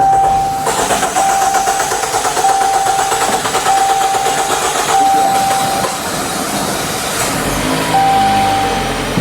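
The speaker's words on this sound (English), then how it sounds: "I'm gonna press the start button so I can start the engine" A Chrysler 200 engine cranks and catches, then settles into a steady idle with a continuous loud mechanical hum and faint whining tones; no one speaks.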